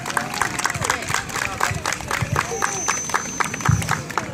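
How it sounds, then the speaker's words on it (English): An audience at an outdoor police and youth baseball league event applauds after a national anthem is sung, a loud burst of crowd clapping mixed with voices. "Can we applaud the Carter sisters for their rendition of the national anthem"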